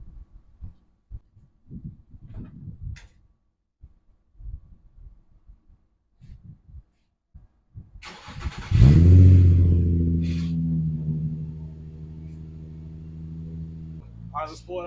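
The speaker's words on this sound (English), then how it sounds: "let's hear the worst sounding engine ever made in the history of existence of engine making" A Nissan 350Z's VQ engine starts with a low rumble after some scattered knocks and movement, then settles into a steady idle drone.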